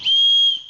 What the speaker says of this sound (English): another neat thing about this cinch lock here is that it's also a whistle